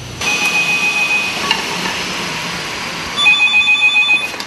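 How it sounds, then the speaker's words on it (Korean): A telephone rings in a workshop, trilling in steady pulses over a constant background hum, with louder ringing toward the end. "작업 중 울리는 벨소리."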